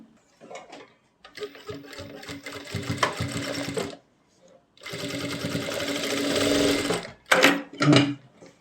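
Sewing machine stitching lace onto a deep neckline, several close bursts of rapid mechanical whirring with short pauses between runs and a few brief clicks and handling noises near the end.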